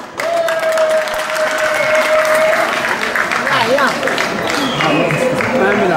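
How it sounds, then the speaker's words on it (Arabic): A crowd at a youth under-14 international football tournament in Béjaïa applauds, loud sustained clapping with cheers filling the whole stretch while a voice speaks over it early on. "تصفيقة من فضلكم"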